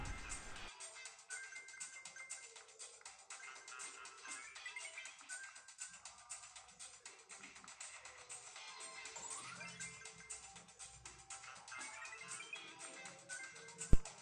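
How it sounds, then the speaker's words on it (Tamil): Subway Surfers mobile game played on a Redmi Note 5 phone, a thin, tinny stream of game music and effect chimes running continuously at low level, ending in a sharp click. "ஸோ முதல்ல நம்ம பார்க்குறது சப்வே சர்ஃபஸ், அதாவது ரொம்ப கேஷுவல் நல்ல லைட்டான கேம்."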